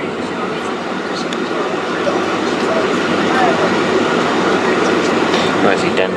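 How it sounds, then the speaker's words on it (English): A Skylink airport train in Dallas rolls past as a steady, close, broadband rumble and hiss that swells slightly louder partway through and carries on to the end. "Skylink trains."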